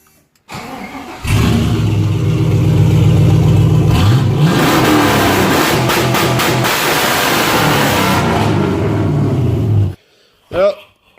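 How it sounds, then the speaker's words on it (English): Truck engine fired up with the whole exhaust cut off: it cranks and catches, then roars loud and raw, revving repeatedly against the rev limiter in sharp bouncing bursts before shutting off abruptly. "fire the truck up with the whole exhaust cut off and bounce her off the rev limiter a little bit"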